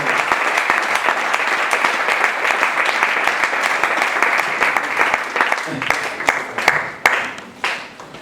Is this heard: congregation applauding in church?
yes